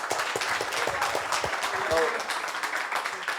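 Audience applause filling a room after a design festival talk, steady dense clapping throughout with a brief spoken word over it.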